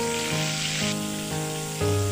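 Pieces of pointed gourd deep-frying in plenty of hot oil, a steady close sizzle with soft crackle, continuous and even throughout.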